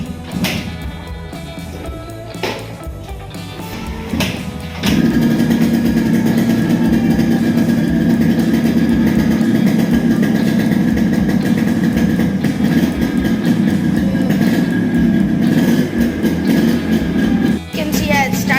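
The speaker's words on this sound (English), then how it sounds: "We start the bike and we'll see." A Yamaha RX motorcycle engine cranks a few times, then catches and settles into a steady, loud, buzzing idle close by, with faint talk before it starts.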